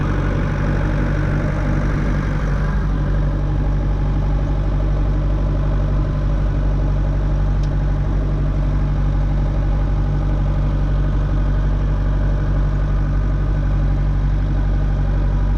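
Tractor engine running steadily while hitched to a Krone baler, a loud, constant low droning hum close by for the whole stretch, without pauses or voices.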